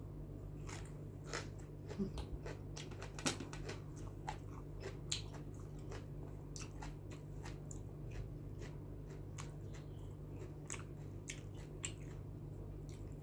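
Blanched Chinese kale stems being chewed close up, a steady run of crisp, wet crunches and bites repeating through a quiet room with a low hum.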